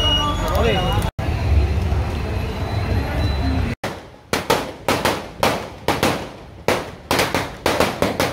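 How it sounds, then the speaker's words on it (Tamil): Strings of firecrackers are set off in a street victory celebration in Jaffna. After a stretch of rumbling crowd and traffic noise, a rapid run of loud, sharp cracks snaps out close by, each with a short decaying tail. "பட்டாசு கொளுத்தியும் வெற்றியினை கொண்டாடியுள்ளனர்."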